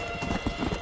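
A quick run of hollow hoof clip-clops from a horse in the video game Red Dead Redemption: Undead Nightmare, several light steps in an uneven trot, close and fairly quiet over a steady background hum.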